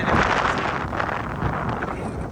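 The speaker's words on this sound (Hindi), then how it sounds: "तुसा भाई हवा तो अंदाजा ला सकते हो कि भाई कितनी तेज हवा है" Strong storm wind buffets the microphone outdoors in Pakistani Punjab as rain approaches, a loud, roaring rumble that surges and eases in gusts without pause.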